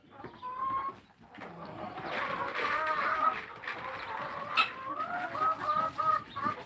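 Backyard chickens, a mixed flock of laying hens and young males, cluck and chatter continuously at close range, with short bursty calls layered over one another.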